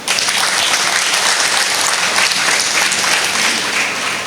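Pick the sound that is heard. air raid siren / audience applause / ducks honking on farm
audience applause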